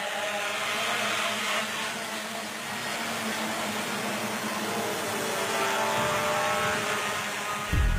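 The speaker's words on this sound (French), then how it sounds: "Et là, on va passer à un test de drone." A drone's propellers spin during a test, giving a steady, loud whirring drone with a faint tonal whine that holds for several seconds and swells slightly near the end.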